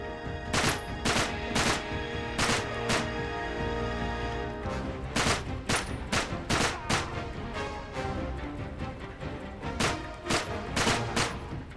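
Gunfire in Uncharted 3: a rapid series of sharp, loud shots in quick clusters, with a brief lull in the middle before more bursts, and no talking over it.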